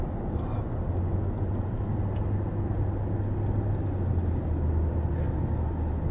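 A car driving on the road, with a steady loud engine drone and rolling road noise throughout, no talk.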